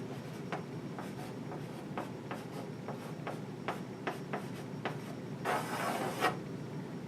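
Chalk or marker scratching on a board while writing out a physics problem: a run of short, quick strokes at irregular intervals, then a longer scrubbing stretch, close and fairly faint, no talking.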